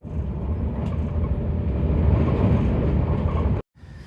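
Passenger train travelling toward Ulverston, a steady close rumble of wheels on rails with broad low-end noise throughout, ending in a sudden brief dropout near the end.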